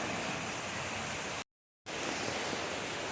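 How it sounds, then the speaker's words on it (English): Loud rushing water outdoors among rocks, a dense, continuous roar close by, briefly cut to silence midway before resuming just as strongly. "The water is louder than I am."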